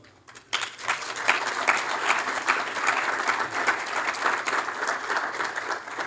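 Room audience at a memorial majlis breaks into sustained applause after an award announcement; dense, steady clapping starts abruptly after a brief quiet moment and continues evenly throughout.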